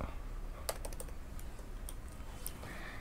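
Rapid keystrokes on a computer keyboard while coding in PHP, a short irregular burst of clicks against steady room hiss, with no talking.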